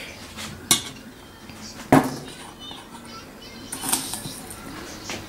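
A spoon picked up in a home kitchen while making cinnamon rolls, giving a few sharp clinks against dishes and a softer clatter, faint and separated by quiet handling noise.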